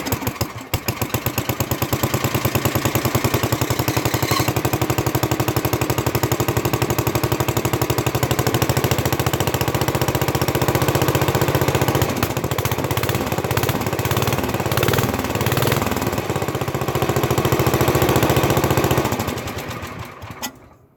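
An old plow tractor engine, cold after sitting on a battery charger with the fuel on and half choke, starts and runs at a loud, steady chugging idle for most of the clip before cutting off near the end.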